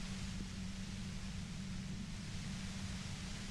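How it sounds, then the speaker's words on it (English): A steady, hissing white-noise drone in the Disco Elysium video game, constant and soft, with a low hum underneath and no other sounds. "Your voice trails off into white noise in your head"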